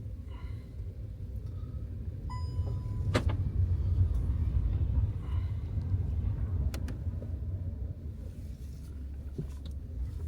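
A camper van drives around the block, its engine and road rumble droning steadily throughout, with a couple of brief clicks or knocks from inside the cabin.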